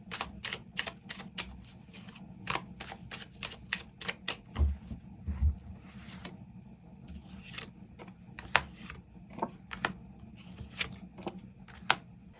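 Tarot cards being drawn and shuffled for a love-fortune reading, heard as a quick series of crisp, close card snaps and flicks with soft rustling between them, no talking.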